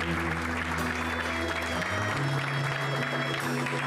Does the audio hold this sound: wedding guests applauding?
yes